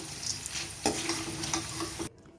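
Lentils (dal) deep-frying in a pan of oil sizzle with a dense, continuous hiss and scattered stirring clatter for about two seconds, then cut off abruptly, with no talking.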